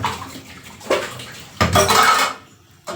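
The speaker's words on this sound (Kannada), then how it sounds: "ಒಂದು ಪಾತ್ರೆ ಇತ್ತು, ಅದು ತೊಳೆದಿಟ್ಟು" A metal cooking pot is washed with water, with splashing, sloshing and clanking of the pot in short bursts, the loudest one near the end, then a brief quiet pause.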